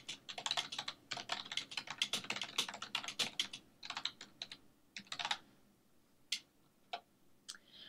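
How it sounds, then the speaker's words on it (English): Quick bursts of typing on a computer keyboard as a survey question is entered, with fast clustered key clicks that thin out into a few scattered taps near the end; the sound is close and fairly quiet. "And I'm going to type in the question."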